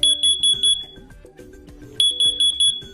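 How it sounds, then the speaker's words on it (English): A First Alert CO605 plug-in carbon monoxide alarm sounds its loud T3 chirp pattern: three sharp, piercing high beeps, a pause, then three more, close up and dominating the room. "When an alarm is triggered, you'll hear a loud 85 decibel T3 pattern chirp to alert you."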